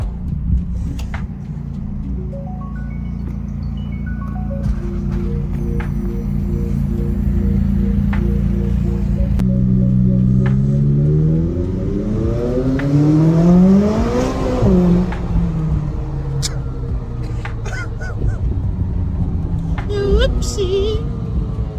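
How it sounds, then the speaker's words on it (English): A McLaren sports car engine hums and revs as the car drives, rising in pitch through gear changes around the middle, steady and close under some speech. "gonna go to the store real quick in the Mclaren"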